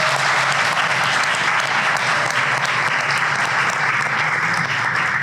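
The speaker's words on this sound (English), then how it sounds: "So I think we should give a round of applause for the festival." Sustained, even applause from an audience at a festival event for the Black Warrant cast and crew, loud and continuous throughout with no voices rising above it.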